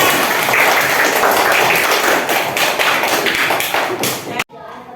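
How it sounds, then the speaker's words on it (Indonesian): Elementary schoolchildren in a classroom clapping their hands together, a dense steady patter of claps with voices mixed in, ending abruptly. "Tepuk tangan dulu dong."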